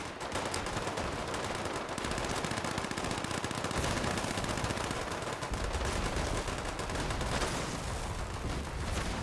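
Tesla cannon firing nonstop in Fallout 76, a dense, loud barrage of crackling electric shots and blasts in rapid succession, sustained without pause, with no talking over it.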